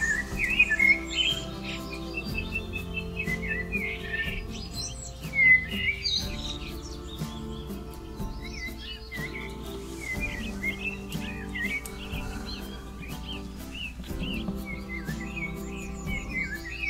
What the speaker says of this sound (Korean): 새소리를 조금 줄일게요.